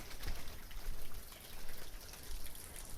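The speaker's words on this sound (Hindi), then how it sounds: "यहाँ पर देखिए झरना चल रहा है।" A small waterfall spills out from between rocks, giving a steady, soft splashing patter that swells and eases, heard from close by with no talking.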